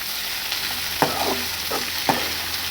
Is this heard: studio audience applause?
no